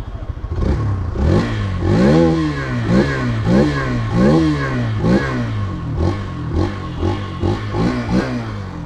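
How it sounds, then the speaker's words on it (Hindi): A 2023 Hero Xtreme 160R 4V Pro 160cc motorcycle engine idling and revving repeatedly, rising and falling in pitch with a throaty exhaust, close by and loud, with no talking. "तो इसको करते हैं हल्का सा रेव।"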